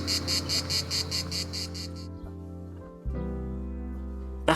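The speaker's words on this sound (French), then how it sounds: "Une harmonie parfaite où le chant des cigales accompagne la nature." Cicadas singing in the lavender fields around Taulignan give a fast, pulsing, buzzy chorus for about two seconds. They fall silent over a steady musical bed that continues to the end.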